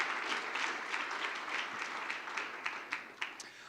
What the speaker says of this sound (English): please give them a round of applause for all the work they did this